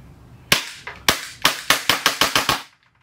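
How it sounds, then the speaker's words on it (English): A Glock 19 BB gun fires a rapid series of about eight sharp, loud cracks in quick succession after a short quiet start, each snap decaying fast, with no talking. "Wait, actually, I'm gonna just shoot at it."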